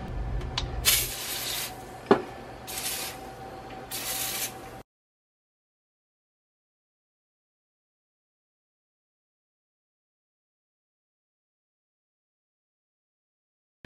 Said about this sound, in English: So I'm gonna go ahead and spray it right now